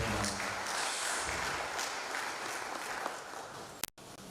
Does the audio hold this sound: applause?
yes